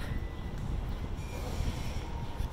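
Passenger train rumbling at a steady, fairly loud level, with continuous low-end noise throughout and no speech.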